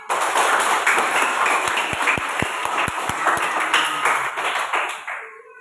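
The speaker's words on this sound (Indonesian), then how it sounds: "Untuk itu dulu kita tepuk tangan bersama." Classroom group applause, a dense wash of many hands clapping together for about five seconds with a few sharper individual claps standing out, fairly close and loud before trailing off at the end.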